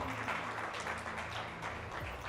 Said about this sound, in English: Please give a big round of applause to Yolanda Bowman.